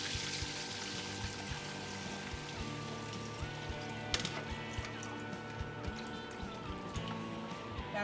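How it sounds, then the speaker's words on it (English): Roughly a liter of stock poured into a cooking pot for lomi, a steady soft splashing and trickling pour that runs quietly for several seconds. "we'll pour in our stock"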